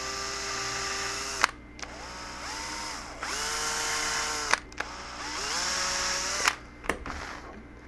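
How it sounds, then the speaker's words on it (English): A small power drill whirs in several short bursts while pre-drilling screw holes, each spinning up and winding down, with brief clicks between runs and no talking. "then we're going to pre-drill the holes"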